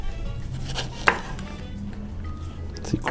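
A knife cuts sweet chili pepper into strips on a cutting board, a few separate sharp cutting taps, one crisp and loud near the start and another near the end, close with quiet in between and no talking.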